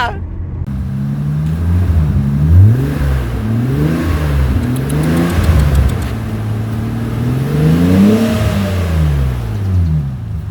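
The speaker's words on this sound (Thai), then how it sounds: "อันนี้คือเสียงเครื่องนะครับ" Deep BMW E31 850 5.0 L V12 engine revs up and down repeatedly, rumbling and roaring close by, rising and falling in pitch with a brief pause in between.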